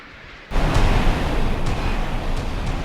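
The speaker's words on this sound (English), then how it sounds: "All the Onyxes going out." Onyx anti-ship missiles launch in a naval warfare video game, with a loud sudden roaring blast that becomes a sustained rushing rumble, marked by a few faint sharper bursts over it.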